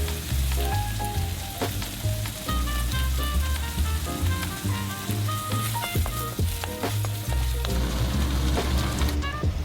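Ketchup hitting a hot frying pan, loud continuous sizzle with sputtering pops and scattered utensil clicks throughout, no voices.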